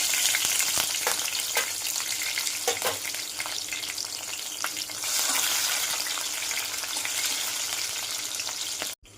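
Green chilies and chili powder hit hot oil for a tempering, giving a loud, continuous frying sizzle with a few sharp crackles and pops, heard close and with no voices.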